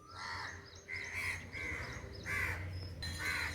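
Several loud, harsh crow caws in quick succession, around five calls, close by with little else around them.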